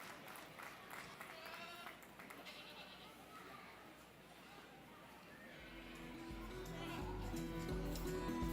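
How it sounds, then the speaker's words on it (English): Applause for a champion goat at the Gillespie County Youth Livestock Show, a steady clapping crowd that swells louder toward the end, with goats bleating and an announcer talking over it. "Let's give him a round of applause."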